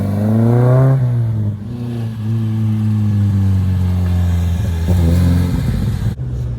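A 1970 Volvo P1800 custom's engine revs hard as the car scoots up a bank, a loud, close, sustained drone that rises in pitch, dips briefly, then climbs again before easing off near the end.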